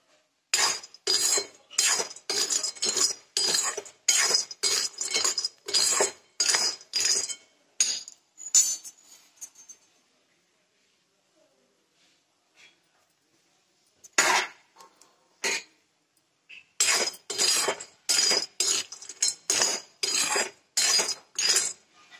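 Date seeds roasting in a pan, a steady series of sharp rattling clinks as they are tossed and stirred, a quiet pause midway, then the rhythmic rattling resumes, close and clear.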